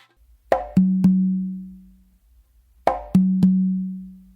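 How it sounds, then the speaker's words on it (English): Congas played by hand in a melodic tumbao: an open tone, a close slap, then two open tones on the tumba. The pattern is played twice, close and crisp, with ringing tones between hits. "you're going to do a close slap with your non-dominant hand, and then do 2 opens with your dominant hand on the tumba on your dominant side"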